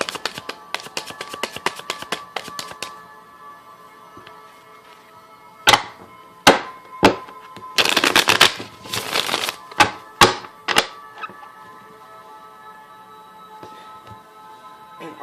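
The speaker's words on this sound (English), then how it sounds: "quick shuffles on camera so y'all can see how I shuffle my decks" Rapid riffling card shuffles, a burst of fast flutters, followed by scattered sharp snaps and taps as cards are squared and bridged.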